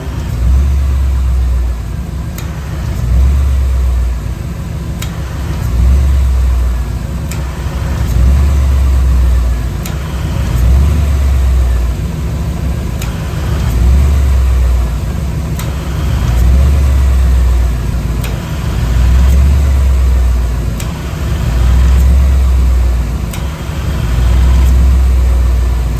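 A V8-swapped Chevrolet S10 idles steadily and loud nearby while its AC compressor clutch runs during a refrigerant recharge, a low rumbling drone with a regular pulsing swell repeating every couple of seconds.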